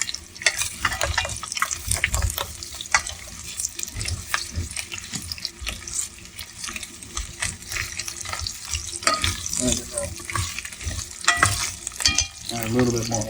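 Potatoes and carrots sizzle steadily in oil in a pan while being stirred for Japanese curry, with a constant close frying hiss broken by scraping and clattering stir strokes throughout.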